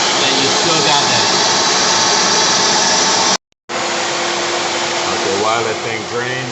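Compressed air and moisture hiss out of an air compressor tank drain, a loud steady rushing blast that cuts off abruptly, then resumes just as strongly.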